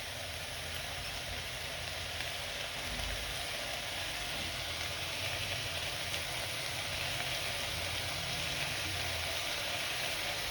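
Spices sizzling in hot oil and ghee for tomato rice, a steady, close crackling hiss that runs unbroken with no talk.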